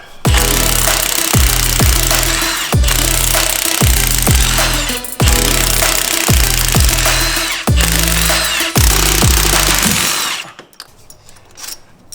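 Impact wrench loosening driveshaft bolts on a Jeep JL, firing in repeated loud, close bursts of hammering rattle with brief gaps between them, stopping near the end and leaving quiet shop noise.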